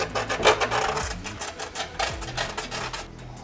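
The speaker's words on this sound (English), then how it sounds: "we're just cleaning up any little burrs that might be there. Just got a piece of sticky 80 grit sandpaper" A hole-saw cut edge being smoothed with sticky 80 grit sandpaper, rhythmic close rasping strokes repeating several times, fairly quiet and alone.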